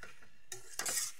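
Food is stirred in a pan, with quick scraping and clinking of a utensil against metal over a faint sizzle, two short bursts within about a second.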